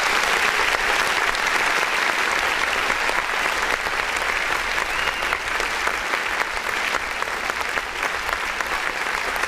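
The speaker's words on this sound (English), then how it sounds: "Let's all clap for him." An audience claps steadily for an independent artist, a dense, even burst of applause that holds for several seconds.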